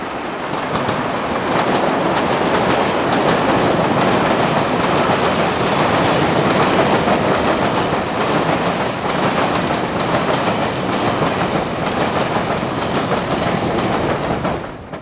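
A pair of British Rail Class 73 locomotives hauls a Purley freight train past, loud and close, with a steady rumble and rhythmic clickety-clack of wagon wheels throughout and no voices.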